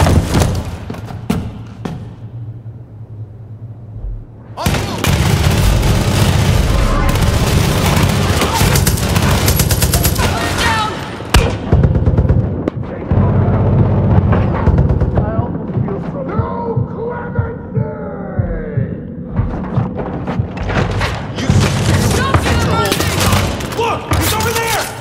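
Gunfire and explosions in the Far Cry 5 video game, set in Holland Valley: dense, near and loud bursts of shots and heavy booms nearly throughout, with shouting voices mixed in.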